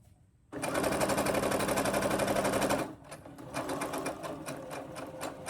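A Brother sewing machine stitches fabric in a loud, steady rapid run of about two seconds, then drops to a quieter, slower stitching for the rest of the stretch, with no voices.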